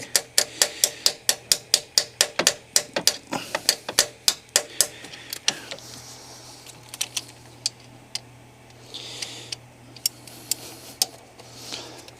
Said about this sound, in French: je vais la rentrer un peu au marteau